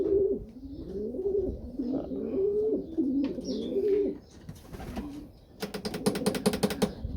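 Racing pigeons coo steadily in a loft for several seconds, overlapping throaty calls close by, followed by a brief flurry of wing flaps and a rapid clattering patter.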